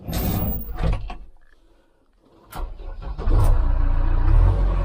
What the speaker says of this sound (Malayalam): എന്തായാലും വണ്ടി സ്റ്റാർട്ട് ചെയ്യാം.